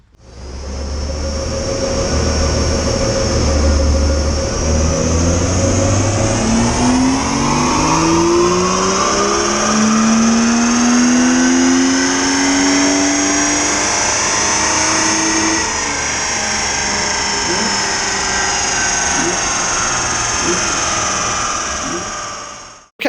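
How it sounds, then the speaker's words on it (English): A BMW E30 with an M20 engine, converted to MaxxECU sequential injection and ignition, revs hard on a dyno during a power run. The loud, steady engine note climbs smoothly in pitch throughout, with no talking. "let's power run this car and we'll see what it's doing right now"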